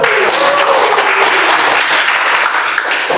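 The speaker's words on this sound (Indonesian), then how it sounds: "Tepuk tangan dulu." Students in a secondary-school civics classroom clap their hands together in a loud, fast burst of applause, with a voice briefly audible over the clapping.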